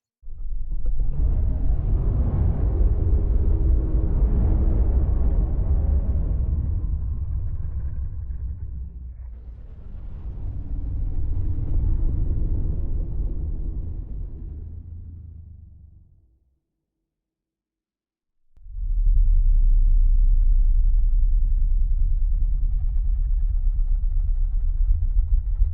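Distant dinosaur calls in the video game Path of Titans, deep booming rumbling bellows, two long drawn-out calls that fade, a short silence, then another low sustained call, no talking.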